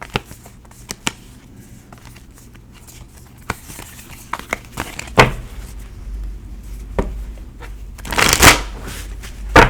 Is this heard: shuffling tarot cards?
yes